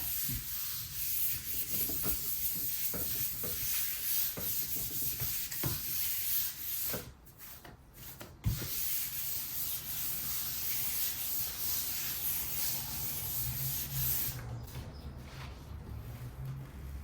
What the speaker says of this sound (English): we're just going to lay it right down on the plate and rub with your hand, don't move it